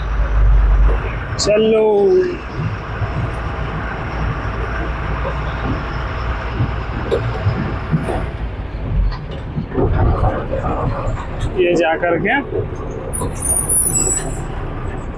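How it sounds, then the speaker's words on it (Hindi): A container trailer truck starts up with a low rumble, then hisses its air brakes and drives off with a steady engine drone. A second brake hiss comes later, and someone talks over parts of it. "अभी जैसे मैं गाड़ी स्टार्ट करके दिखाता हूँ"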